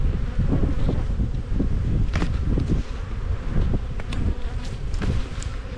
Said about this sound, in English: the bees from the brood nest downstairs will travel up through the box over the next hour and a bit